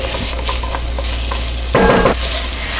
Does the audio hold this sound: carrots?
yes